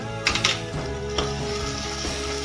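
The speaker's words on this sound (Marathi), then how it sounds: "मसाला पण आपला छान फ्राय करून घ्यायचा" Masala spices frying in a pan for spicy misal pav, a steady close sizzle with a few brief stirring scrapes and clinks over a low hum.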